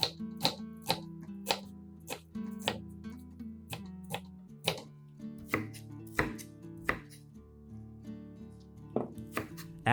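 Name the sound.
chopping an onion finely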